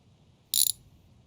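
A single quick burst of ratchet-wrench clicking, close and crisp, rattles for about a fifth of a second while loosening bolts on a front-wheel-drive NIV build in a garage, with near-silence before and after.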